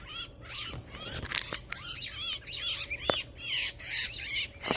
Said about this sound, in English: Look, all the birds are coming. Cardinals, everything.